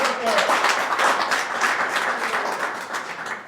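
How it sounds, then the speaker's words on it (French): Applause breaks out at a Rotary club induction ceremony in Parakou, a lively burst of many hands clapping that swells early and gradually thins over a few seconds, with a voice briefly audible at the start. "On applaudit s'il vous plaît."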